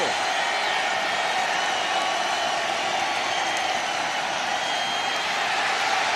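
A packed football stadium crowd at a 2018 NFL preseason game between the Kansas City Chiefs and Chicago Bears makes a loud, unbroken roar that holds steady from start to finish.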